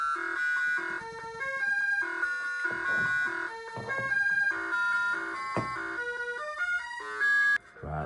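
Beeping 8-bit home computer game music from Manic Miner, a busy run of bright square-wave melody notes and blips playing continuously at moderate level.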